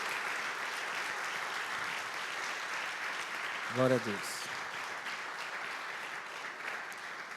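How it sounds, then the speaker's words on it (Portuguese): A church congregation at a Sunday Bible school service claps steadily throughout. A single voice calls out briefly near the middle over the applause. "Podemos aplaudir nesta manhã por esse momento maravilhoso?"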